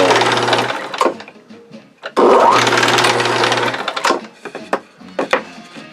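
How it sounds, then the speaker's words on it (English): A drill press spins up and bores two holes in wood for the uprights of a postage scale, two loud drilling runs with whining motor and chip-cutting noise, followed by clunks and handling knocks. "So here we are at the drill press. We're going to drill out these two holes here for the uprights"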